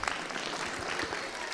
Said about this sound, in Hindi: जोर से तालियां इनके लिए